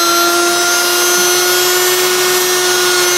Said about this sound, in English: You can hear the motor is nice and quiet.